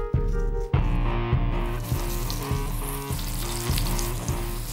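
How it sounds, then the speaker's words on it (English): Bacon-wrapped stuffed chicken leg frying in olive oil in a hot pan, a loud continuous sizzle with regular soft thumps as the leg is rolled around. "the secret now is to get that bacon really nice and crispy"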